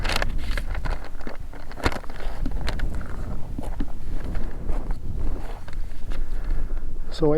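Gusty wind buffeting a microphone outdoors at elevation along the Trans America Trail near Dove Creek, a loud, steady rumble with sharp bursts and crackles throughout, and a brief tonal sweep near the end.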